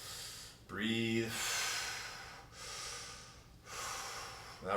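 Heavy breathing during a strength exercise: a sharp snorting inhale followed by long, forceful exhales, close and loud, in a quiet room.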